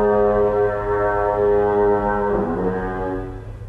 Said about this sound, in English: A modern foghorn has replaced the old model, which is still kept as a reminder of days gone by.